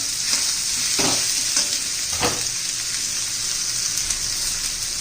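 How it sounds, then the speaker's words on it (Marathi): Bottle gourd sautés in a pan with a steady sizzle of frying, while a spoon stirs it with a few soft scraping strokes, heard close and without any talk. "हा दुधी भोपळा लागतो एक दोन मिनटं चांगलं परतून घेऊया आपण"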